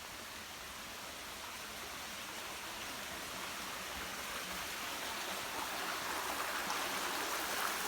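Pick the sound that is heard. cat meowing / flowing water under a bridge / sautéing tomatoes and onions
flowing water under a bridge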